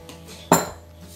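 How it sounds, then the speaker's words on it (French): A single close metallic clink as a spoon knocks against a cake pan while softened butter is spread inside, with a quiet rubbing sound before and after. "j'ai utilisé une cuillère pour un peu plus étaler le beurre"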